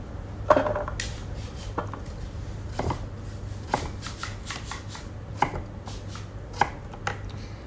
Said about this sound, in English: So I'm just chopping the butternut